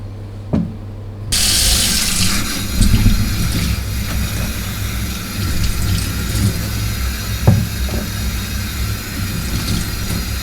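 Tap water runs steadily into a sink while potatoes are washed for a Yorkshire-style beef and chicken stew, a continuous close splashing flow that starts abruptly after a brief quiet moment and carries on with small knocks and clatters.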